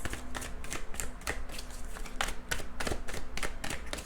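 Tarot cards riffled and shuffled in quick repeated bursts of crisp flutter and slaps, close up, with no talking.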